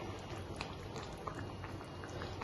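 Boal fish head curry simmering in a pot, a steady soft bubbling with faint scattered pops and patters, close and quiet, with no voices.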